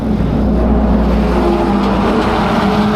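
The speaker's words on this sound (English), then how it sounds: "That's a big truck." A big truck rumbling past on a countryside road in Laos, heard loud and close from a bicycle, with a heavy low engine drone and some wind noise throughout.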